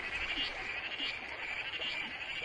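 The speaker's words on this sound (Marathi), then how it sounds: "पावसाला संगीत द्यायला बेडूक प्रजातीही सज्ज झाली." Frogs croak in a rural Konkan landscape during a monsoon night, making a dense steady chorus of pulsing calls with a soft background hiss, fairly faint and continuous.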